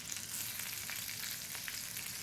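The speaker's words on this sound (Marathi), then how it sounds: "तर हे प्रॉन्स मी त्याच्यामध्ये तळण्यासाठी सोडत आहे" Prawns sizzle in heated oil in a kadhai, giving a soft, even frying hiss with faint crackles that runs unbroken and fairly quiet through the short stretch.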